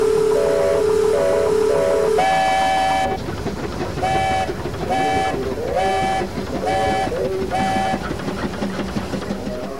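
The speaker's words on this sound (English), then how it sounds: "McGrath was looking for a Nichols and Shepard steam engine" A Nichols and Shepard steam engine at a steam threshers reunion sounds loud, repeated whistle blasts in short bursts and then longer pulses over a rumbling, chugging engine background.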